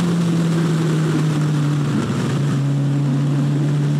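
A Kawasaki Ninja H2 motorcycle accelerating hard in fourth gear, a loud steady engine drone with a sustained tone and heavy wind rush throughout.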